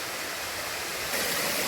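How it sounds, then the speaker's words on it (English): A waterfall along an off-trail hike in Big South Fork makes a steady broadband rushing roar, distant but continuous, growing slightly louder near the end, with no voices. "Here's a first look of the waterfall."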